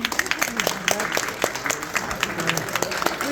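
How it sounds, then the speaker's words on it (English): An audience gives a round of applause at a program celebration, the clapping steady and dense across the whole stretch, with voices and cheers mixed into the crowd noise. "they deserve a big round of applause"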